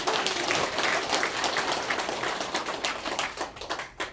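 A hall of elderly members at a senior citizens' association general meeting breaks into applause, dense continuous clapping that stays loud and then thins into scattered claps toward the end.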